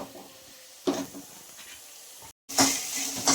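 A mint rice masala fries in hot oil, giving a soft sizzle with bursts of stirring and scraping as the spoon moves through it, close and fairly quiet.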